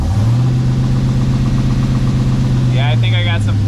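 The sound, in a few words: Pontiac Firebird engine running at idle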